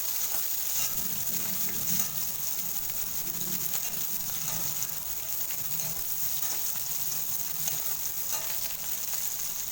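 Seeded tomatoes for fish curry sauté steadily in a pan, giving a continuous soft sizzle with faint stirring scrapes and a dove cooing in the background.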